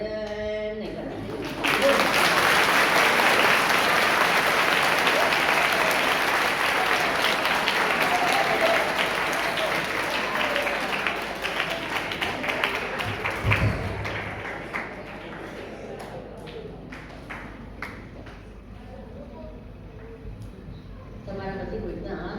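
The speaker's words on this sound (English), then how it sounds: "you should not clap with half attention" Audience applause at a spiritual talk, a dense sustained burst of clapping that swells loudly then thins out, with speech nearby.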